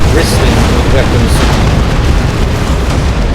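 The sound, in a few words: double nuke explosions in video game Dawn of War 2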